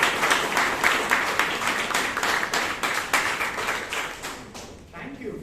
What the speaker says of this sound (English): Can you have a round of applause?